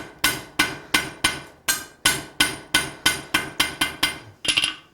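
A hammer strikes hot metal being forged into a fire poker, landing about a dozen sharp, ringing blows at a steady rhythm, close and loud, ending in a quicker rattling flurry.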